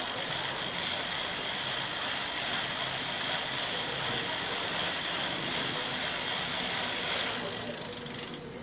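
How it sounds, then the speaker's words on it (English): A brush held against a running bicycle chain gives a continuous close ratcheting, clicking whir as the chain runs through the bristles and over the sprockets, steady throughout and fading slightly at the end. "I have a brush like this, which I then place against my chain and I let it run through"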